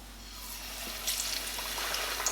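Battered fish fillets lowered into hot oil give a steady, dense sizzle with scattered crackles and pops that brighten slightly as the frying picks up.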